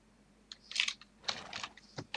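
Quick light taps on a computer keyboard as a command is typed, a few short clicks in small clusters, close and fairly quiet.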